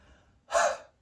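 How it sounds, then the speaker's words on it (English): A single short, forceful huff breathed out through an open mouth during a physiotherapy airway-clearance exercise, one sharp breathy burst heard close up, with no talk. "So we've got the short huff"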